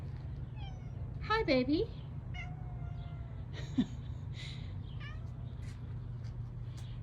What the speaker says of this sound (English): my cat happens to be back here